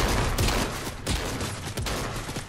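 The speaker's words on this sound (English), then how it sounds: "You're shooting at Mr. Shark." Heavy gunfire in Fortnite: dense, loud volleys of overlapping shots rattle on without a break, with brief louder bursts punching through the steady barrage.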